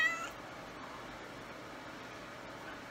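A cat meows for food indoors, one short call right at the start before a steady, quiet background hum carries on.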